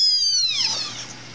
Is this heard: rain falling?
no